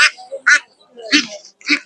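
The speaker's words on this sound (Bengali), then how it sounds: "এই যে এই পাশে খাঁচার ভিতরে দেখেন প্রচুর দেশি হাঁস" Native Bangladeshi ducks kept in cages at a duck and chicken market in Mymensingh quack in several loud, close, short bursts.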